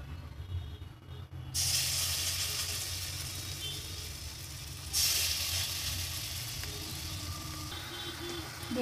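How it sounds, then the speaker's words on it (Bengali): Chana dal fritters fry in a small amount of hot oil, making a steady hiss that swells sharply twice as more batter hits the pan, then settles into a continuous sizzle. "এবার আমি বড়াগুলো ভেজে নেব।"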